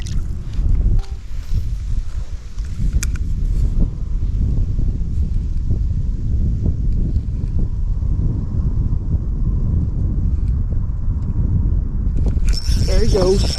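Steady wind buffets the microphone during an ice-fishing trip for crappie, a constant low rumble that holds loud from start to finish, with faint rustling on top and a brief high whistle near the end.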